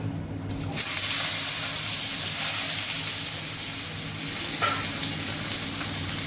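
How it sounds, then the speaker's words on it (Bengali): Cut potato pieces drop into hot oil already tempered with whole garam masala, dried red chilli and cumin, then fry with a loud, steady, close sizzle and hiss throughout. "দিয়ে দিচ্ছি টুকরো করে রাখা আলুগুলো"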